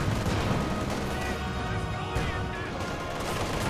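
An MG34 machine gun from Company of Heroes 2 fires in sustained bursts, blended into a thick wash of battle noise with distant explosions, steady and fairly loud throughout.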